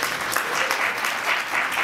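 An audience at a women's leadership event applauding, a dense, even wash of many hands clapping, fairly loud and steady for the whole short stretch with no talk over it.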